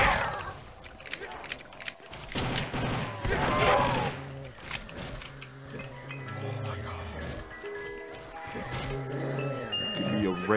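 A gun fires in Roblox Zombies, with sharp shots coming in bursts and scattered single cracks, mixed with game effects and clicking, while players talk excitedly over the action.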